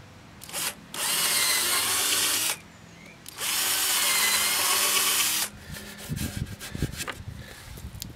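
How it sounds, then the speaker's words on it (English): A power drill whirs in two long bursts, biting through wood, followed by clattering and handling noises. "drilling through hole so that I can fix this piece of wood here on the inside"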